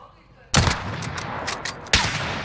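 Sniper rifle shots in a shooter video game, two loud sharp blasts about 1.4 seconds apart, each with a long ringing tail, among busy game sounds.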